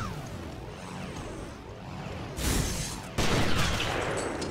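Gunfire in the video game Resident Evil Revelations bursts out in two loud sharp blasts, the second one heavier, after a stretch of quieter low game ambience, with no voices.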